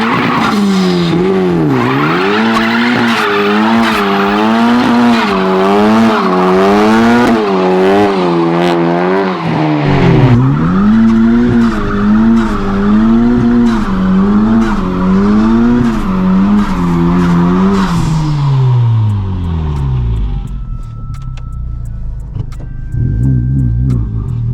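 Honda Civic Type R, an all-wheel-drive build, doing a burnout with the e-brake on. The engine is loud and close and rises and falls in wavering revs while the tires squeal and skid for about twenty seconds, then the noise winds down.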